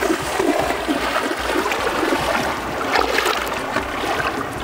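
Steady, loud rushing and splashing of water as someone wades through the Moei River on the Thai–Myanmar border, continuous close to the listener with no talking.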